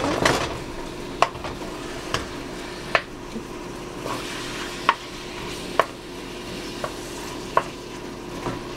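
Ground beef being stirred and broken apart in a hot pan for homemade spicy pasta, a steady low sizzle under sharp, spaced scrapes and taps of the utensil against the pan, close and fairly quiet.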